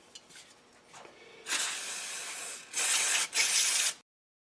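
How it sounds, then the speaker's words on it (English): Carburetor cleaner is sprayed onto a small engine carburetor, producing three close, loud bursts of aerosol hiss, the first long and steady and the next two shorter with a brief gap between them. "Get some carb spray on her."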